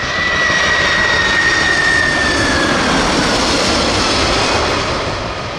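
The jet engines of Air Force One, the presidential aircraft, produce a loud, sustained roar with a high whine sliding slowly downward through the first half, steady and close, with no voices.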